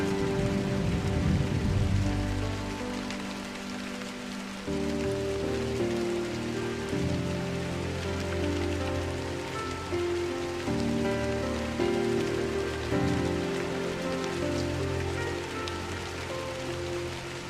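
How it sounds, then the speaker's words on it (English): Light drizzle falls in the Drizzlepath video game as a steady, soft rain hiss on surfaces, heard alone and continuous under a low, sustained musical drone. "I woke to a morning of light drizzle"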